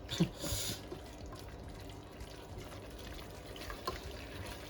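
Water pouring from a tap into a pot for cooking Greek hilopites pasta, a soft steady trickle and splash that starts louder, then settles to a faint continuous flow with small clinks.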